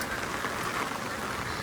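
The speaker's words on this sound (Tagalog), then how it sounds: "sumulong sa ulan talaga" Steady rain falling in Hong Kong just after Typhoon Noul, an even, continuous hiss of drops on surfaces with no breaks and no voices.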